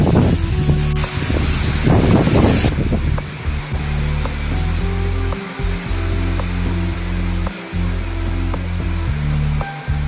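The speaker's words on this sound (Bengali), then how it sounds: "থেকে থেকেই জোরে বৃষ্টি হচ্ছে এখন।" Wind gusts and bursts of heavy rain on a rooftop ahead of Cyclone Remal make a loud, steady roar throughout. A harsher, rushing burst comes in the first few seconds, then a dense, constant wash of noise.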